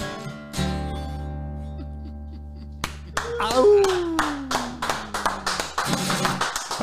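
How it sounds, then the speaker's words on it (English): Live audience at an intimate venue clapping and cheering after a folk song, starting with a sustained held chord then breaking into scattered claps and rising hand percussion, with a sliding vocal-like tone over lingering instrumental sound. "And that crowd goes wild"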